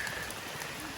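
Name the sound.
rain falling outdoors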